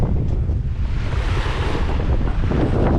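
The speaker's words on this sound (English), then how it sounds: "These waves aren't all that big, but maybe 4 feet" Ocean waves of about four feet wash around a sailboat in rough conditions, a continuous loud rushing surge mixed with heavy wind buffeting the microphone.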